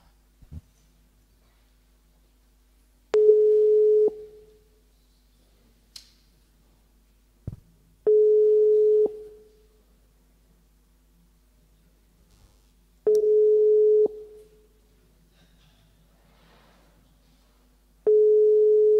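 A telephone busy signal on a failed call during a county council session, with a steady tone repeating in roughly one-second bursts, separated by several-second gaps and occasional clicks.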